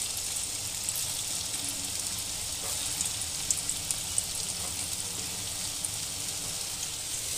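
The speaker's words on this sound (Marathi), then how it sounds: "आता आपण यात ते कोफ्ते टाकून घेणार आहोत आणि छान आपण त्याला फ्राय करून घेणार आहोत मस्तपैकी" Raw banana koftas fry in hot oil with a steady, close, even sizzle and bubbling crackle that holds for the whole stretch, broken only by a few small pops.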